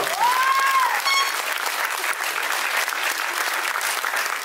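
Audience applause for a contestant at the Lady and Lord Réunion 2018 pageant evening, steady dense clapping filling the whole stretch, with a brief sung or spoken tone at the start.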